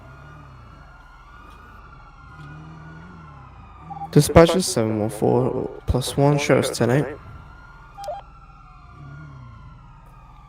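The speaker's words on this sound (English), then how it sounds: "A lot of sirens going off." Emergency sirens from police pursuits wail faintly in the background throughout, rising and falling, while radio chatter breaks in briefly in the middle.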